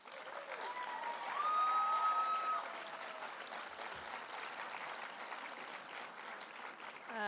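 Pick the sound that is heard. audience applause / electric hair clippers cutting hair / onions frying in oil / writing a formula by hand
audience applause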